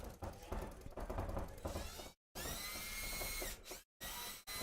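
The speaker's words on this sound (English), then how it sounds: "I don't know if y'all can hear Danny drilling in the background" A power drill whirs in sustained bursts with brief gaps, running steadily in the background at an outdoor paintball field while people talk over it.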